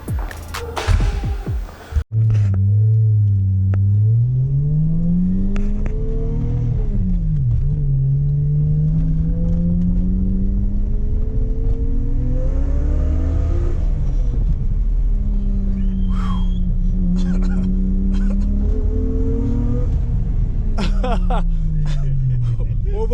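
A Toyota Mark II with a turbocharged 1JZ engine accelerates hard with wheels spinning for lack of traction: a loud, close engine roar rising and falling through repeated revs, with occupants talking and exclaiming over it.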